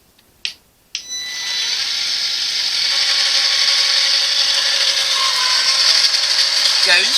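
A paper-feeding embosser machine runs after a couple of sharp clicks, settling into a steady loud mechanical whir and grinding rattle that persists to the end, with a faint squeak near the finish.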